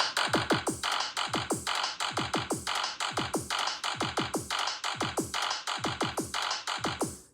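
A 1970s-style street drum set loop, rebuilt with the Minimal Kit 2 sounds, plays a tight repeating groove of punchy, pitch-dropping kicks and crisp hits, evenly spaced and loud with no talk.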